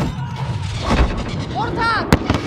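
Mortar fire in Call of Duty: Modern Warfare: heavy booms and thuds in a battle scene, with one sharp blast near the end, mixed with shouted voices and other combat sounds.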